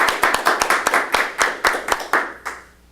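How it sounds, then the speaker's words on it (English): A small club audience at a Toastmasters meeting claps for the Toastmaster, giving a few seconds of close, uneven handclaps that fade out quickly. "Great round of applause for our Toastmaster today, Emily Garrett."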